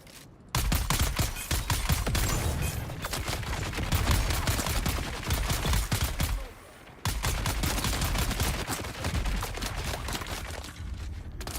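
Sustained rapid gunfire from a Dune Awakening shooting game, dense bursts running almost continuously with a brief pause midway, loud and close, with no talk over it.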